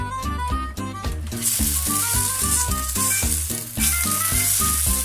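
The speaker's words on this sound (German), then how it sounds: "Zuerst braten wir die Pilze." Mushrooms frying in an overly hot pan make a bright, hissing sizzle that surges twice. Rhythmic background music plays over the whole stretch.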